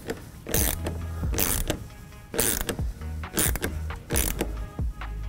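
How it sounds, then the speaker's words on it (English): A 14 mm ratchet wrench tightens a light bar bracket bolt on a Bronco Sport, giving bursts of rapid close clicking in several separate strokes with short pauses between, no speech. "we're gonna take a size 14 millimeter wrench and tighten this all the way down"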